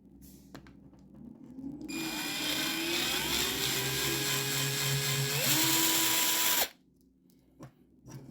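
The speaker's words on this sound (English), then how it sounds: "And to keep the wood from cracking, I always like to pre-drill." A power drill whirs steadily for several seconds, its pitch climbing as it pre-drills a handmade wooden musky lure, then cuts off abruptly, leaving quiet.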